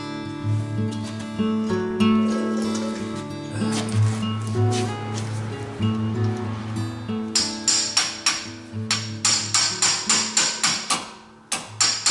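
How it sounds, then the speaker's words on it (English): Repeated sharp metallic hammer strikes on the front brake parts of a 2008 Honda CR-V, close and loud, speeding into a quick steady series of blows toward the end. "So I'm going to grab a hammer."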